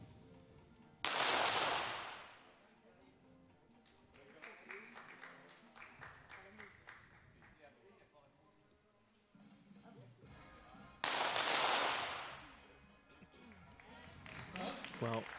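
Pistol shots in a women's junior 25m pistol final: two loud, sharp cracks about ten seconds apart, with a commentator talking and a quieter crowd murmur between them.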